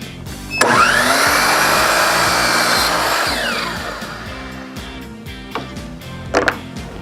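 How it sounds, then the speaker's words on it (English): A power saw cuts a knotty pine tongue-and-groove ceiling board on a 5-degree bevel, a loud close whine that spins up, grinds through the wood for about three seconds and winds down, followed by a few sharp knocks. "So this I'm gonna cut on a 5-degree bevel."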